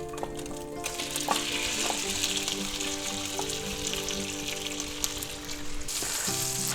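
Marinated pork sizzles in hot oil in a pan, a steady close frying crackle with occasional clinks, no one speaking.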